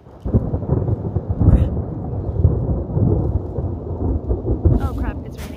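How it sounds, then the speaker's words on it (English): Outdoor rain falls steadily while low thunder rumbles through it, a loud, broad wash that swells and fades over several seconds. "Oh crap, it's raining."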